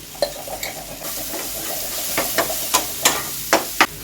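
Chilli powder and Kashmiri chilli spice paste frying in a pan for a Bengali mourala fish curry, a steady close sizzle broken by sharp spoon scrapes and stirring clatters that grow more frequent toward the end, no voices.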